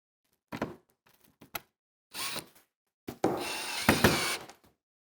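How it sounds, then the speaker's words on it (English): Screws on a window clamp ring during a window replacement are tightened by hand in short bursts of ratcheting and scraping clicks, with pauses of near-silence between them, close to the microphone. "now we can tighten them up in the same order"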